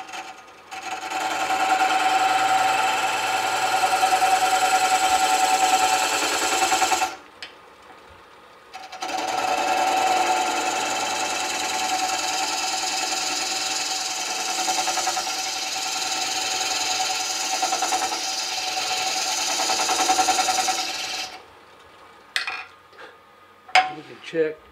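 A wood lathe spins steadily while a round skew shapes a birdhouse ornament, producing a close, continuous whirring hum with a faint scraping edge, broken by a pause near the middle and quiet handling knocks at the end.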